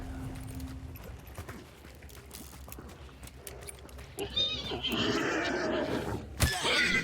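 A horse in a video game whinnies, a loud, shrill neigh rising out of game noise in the second half, with footfalls and a sharp impact near the end.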